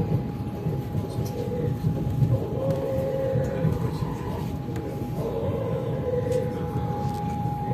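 Lastochka passenger train running through Adler, a steady low rumble of wheels and carriage noise with a faint constant whine, heard from inside and continuous throughout.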